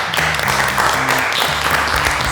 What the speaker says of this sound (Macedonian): Еден голем аплауз за моја.